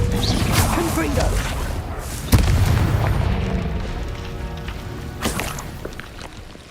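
A Confringo blasting spell goes off in the Hogwarts Legacy video game with a sharp boom at about two seconds, set against constant dense in-game action noise, with a further thud later on.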